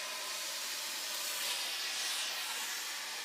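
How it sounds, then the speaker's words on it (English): A steam iron releases a continuous, even hiss of steam while pressing fabric to fuse interfacing, heard close and alone without speech. "you want to take your steam iron once again, and you want to steam press this."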